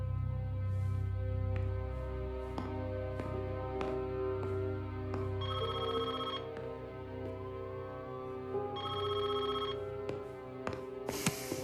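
A telephone rings steadily in a tense French thriller scene, two long bursts of bright electronic trilling over a low background drone, with no voices.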